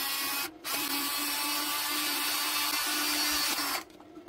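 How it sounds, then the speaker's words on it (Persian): A power drill bores a hole in a vacuum cleaner body, whirring in one steady, loud, close run of a few seconds with a brief pause near the start. "سوراخی که میخواستم ایجاد شد."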